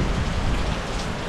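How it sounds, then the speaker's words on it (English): Steady, dense rain falls during Hurricane Milton in Florida, a continuous close hiss of drops on surfaces with no gaps and no voices. "And still mainly just rain."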